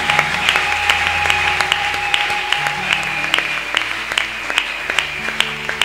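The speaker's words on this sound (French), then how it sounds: "Est-ce que quelqu'un peut me soutenir en acclamant très fort le Seigneur?" A church crowd clapping loudly and steadily in praise of the Lord at a Feast of Tabernacles celebration, sharp rhythmic claps throughout, with music playing underneath.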